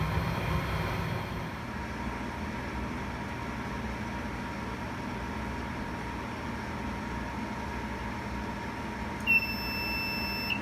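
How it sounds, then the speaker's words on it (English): A steady electrical hum fills a homebrewing setup, then a high, shrill temperature alarm from the brewing controller starts up near the end as the water passes 60 degrees. "It's over 60 degrees, so the alarm came on."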